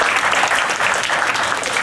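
An audience at a school parent orientation gives a big round of applause, a brisk, dense clatter of hands that stays loud and close throughout.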